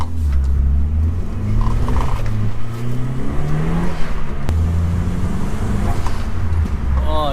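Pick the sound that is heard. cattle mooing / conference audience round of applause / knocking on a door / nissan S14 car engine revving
nissan S14 car engine revving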